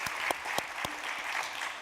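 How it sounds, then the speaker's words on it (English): Applause from a panel audience honoring a speaker at a talk on gender-based violence, steady dense clapping with a few sharper claps standing out, moderately near and unaccompanied by speech. "let's give a round of applause to Joanne for her work"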